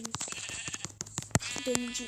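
Minecraft sheep bleat in short, tonal calls, a couple of distinct bleats among clicks and blocky game effects, with someone talking over the sounds.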